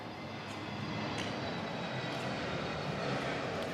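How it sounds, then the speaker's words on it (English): Steady broadband roar of an airplane passing overhead near Orlando airport during an outdoor singles championship, a continuous engine rumble holding even across the whole span with faint background activity. "As you hear the plane going overhead"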